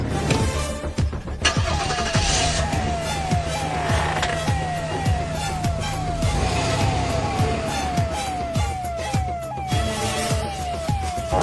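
An ambulance siren wails in repeated rising-falling cycles over a running vehicle engine and road noise, loud and close, continuing steadily with no talk.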